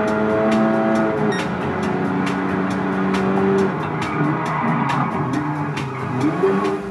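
Race cars in Gran Turismo 7 played through cinema speakers, revving engines with rising and falling pitch and frequent gear shifts, with tire squeal, heard continuously and fairly loud.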